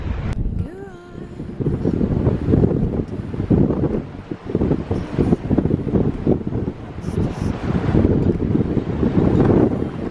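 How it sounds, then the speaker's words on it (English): Strong wind in Jamaica buffets the microphone in heavy, rumbling gusts that last throughout, loud and close, with a brief bit of background activity. "it's super windy today, like super windy"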